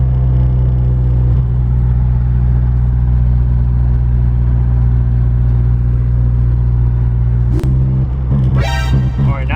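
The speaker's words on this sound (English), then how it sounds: "I have my foot on the gas all the way, and it's bogging a lot." A car engine hesitating and bogging under full throttle, a loud, steady low drone heard from inside the vehicle, ending in a brief burst of sharper clatter.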